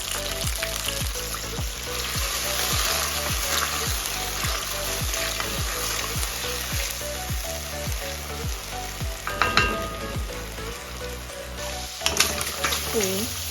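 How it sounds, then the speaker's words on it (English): Prawns sizzle and crackle steadily in a hot pan while cooking jollof rice, with rhythmic stirring or scraping strokes and a few brief clinks. "I'm just going to let this to fry a little bit."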